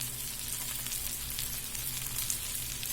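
Turmeric, chili powder and coriander powder frying in a pan, a steady close sizzle with fine crackling throughout and no pauses.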